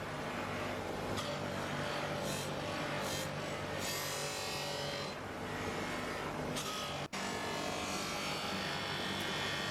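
Polishing brush buffing an aluminium Harley side casing, a steady dense whirring rub that holds constant for the whole stretch, close and continuous with brief shifts in pressure and no talk.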